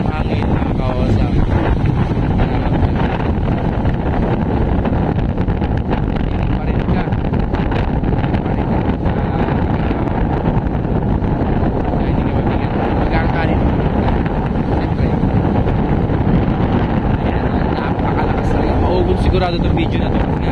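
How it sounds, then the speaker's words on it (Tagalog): Strong wind at Baler beach roars and buffets the microphone in a loud, constant rush for about twenty seconds, with talk faintly under the noise. "Sigurado itong video na ito kasi nga napakalakas ng hangin."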